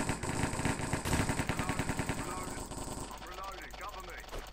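Rapid bursts of automatic gunfire from a cops-and-robbers video game, loud and rhythmic for about three seconds before cutting off into quieter game effects and chatter.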